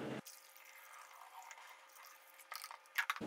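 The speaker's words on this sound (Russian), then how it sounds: "Ну и высыпаем в бутылочку и заливаем." Homemade moonshine trickles faintly into a bottle holding toasted semolina, a quiet thin pour with small splashes and a louder gurgle near the end.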